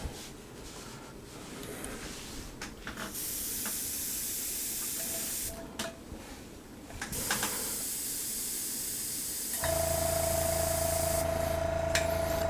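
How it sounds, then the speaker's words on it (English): An airbrush sprays base protector paint at about 15 psi in steady hissing bursts, separated by short pauses, with a low compressor hum taking over near the end. "Spraying it about 15 psi."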